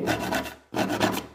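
Pencil scribbling across notebook paper in two quick rasping bursts separated by a short pause, close and dry with no other sounds.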